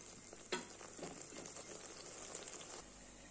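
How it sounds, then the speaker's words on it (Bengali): Spice paste frying in a pan for a fish hariyali curry, with a steady, close sizzle throughout and a few scrapes from stirring. "মশলাটাকে ভালো করে কষিয়ে নেব।"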